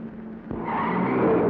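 Car swerving on a road in an old Tamil film scene with a hay cart ahead, its tires skidding in a rising, sustained squeal under an engine roar, loud and close.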